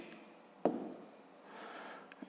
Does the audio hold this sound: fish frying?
no